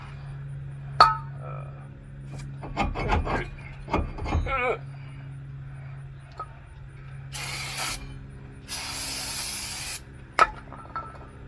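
Cleaner sprays onto the brake rotor of a 2000 Dodge Durango in two long aerosol hisses during ball joint work. Before them come scattered mechanical clanks and ratcheting clicks, and one sharp knock follows.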